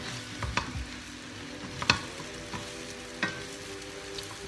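Kway teow noodles with chicken and sauce are stir-fried in a hot pan, giving a steady sizzle with sharp utensil scrapes and clinks at irregular moments, close and clear, with no talking.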